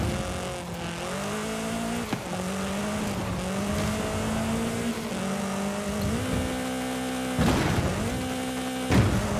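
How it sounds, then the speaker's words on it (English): A UTV in Forza Horizon 5 revs hard with rising and falling engine pitch as its tires spin and squeal, loud and continuous with brief drops between surges. "this thing is trying to spin its tires up like crazy"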